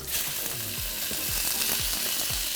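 Carrots and meat fry in garlic-scented oil for plov, a loud continuous sizzle with the repeated clink and scrape of a utensil stirring the pan, and no talking.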